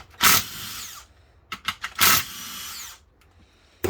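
A power tool zips out bolts on a 2003 Honda Odyssey during transmission work: two loud bursts of about a second each, with short stuttering whirs between them and another quick burst at the end, close by.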